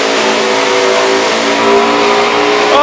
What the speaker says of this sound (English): Oh, and we're cranking up the engines.